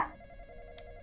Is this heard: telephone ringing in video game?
yes